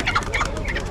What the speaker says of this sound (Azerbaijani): toyuqlar neçədir ay Bibi?